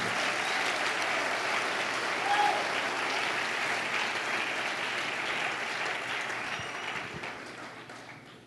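Worshippers at a revival church conference applaud, a broad, sustained wash of clapping from a large crowd. It starts strong and slowly fades over roughly eight seconds.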